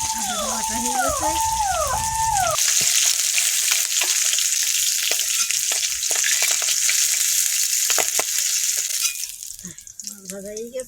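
Fish fries in a pan with a loud, continuous crackling sizzle and scattered pops, with a voice heard at the start and again at the end.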